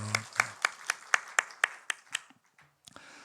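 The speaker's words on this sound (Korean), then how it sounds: "우리 축복의 박수 하시겠습니다." A church congregation claps in rhythm during a Sunday worship blessing, about ten distinct, evenly spaced claps that fade into a few scattered ones, fairly close and moderately loud.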